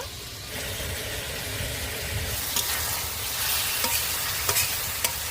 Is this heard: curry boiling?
yes